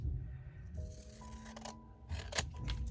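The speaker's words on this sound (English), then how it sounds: "I'll just cut that down real quick and not measure" Scissors cut paper for a Z-fold journal card in a few close crisp snips with sliding blade rasps, separated by short pauses.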